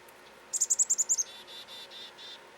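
Chickadees calling outdoors on a damp, overcast day: a quick run of about seven bright, high chirps followed by four or five buzzier descending notes, fairly close and clear over a quiet background.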